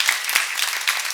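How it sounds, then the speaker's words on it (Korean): Congregation applauding during a New Year's Eve church service, a short stretch of dense, steady clapping from many hands with a few sharper claps standing out. "이 모든 것 거기에 대해서도 우리의 감사의 박수를 돌리겠습니다."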